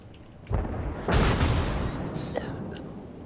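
Video game gunfire: a couple of heavy, booming shots with a long rumbling tail, then a softer crack, fairly close and loud.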